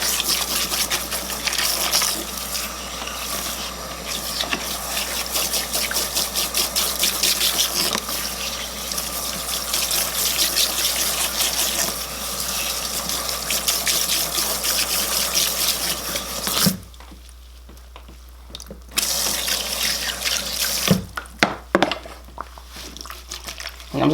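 Tap water runs steadily while shampoo is rinsed from hair in a home sink or shower, a continuous close splashing rush that drops away briefly near the end before resuming in short bursts.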